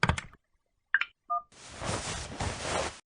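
A phone number being dialed: a few short clicks and tones, then about a second and a half of steady, rushing line noise, as if a call were connecting. No voices.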